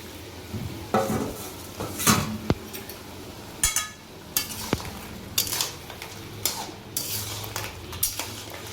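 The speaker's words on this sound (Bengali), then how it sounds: "এবার এর মধ্যে দিয়ে দেবো কাঁকড়া।" Crab being added to bottle gourd already fried in a cooking pot and stirred: repeated metal spoon scrapes and clanks against the pot over a soft sizzle, close and fairly loud, no talking.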